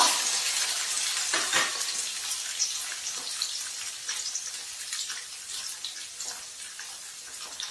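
Cumin, mustard seeds, curry leaves and chopped onion frying in hot oil in a pan, a steady soft sizzle with light stirring clicks throughout, close and fairly quiet, no talking.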